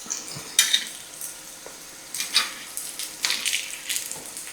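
Poha-stuffed kachoris frying slowly in oil over a low flame, a soft steady sizzle with intermittent louder bursts of bubbling and crackle, close and alone without talk.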